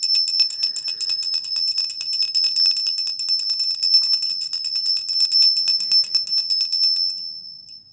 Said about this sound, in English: Watch your ears because the bell's loud,